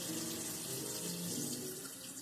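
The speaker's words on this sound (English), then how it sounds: "I'm going to go ahead and turn on the water and make sure that it is warm, not cold, not hot" A sink faucet runs warm water for hand washing, a steady close-up rush of flowing water with no talking.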